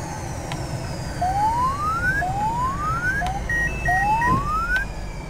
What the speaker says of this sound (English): Just a master caution there for the oxygen.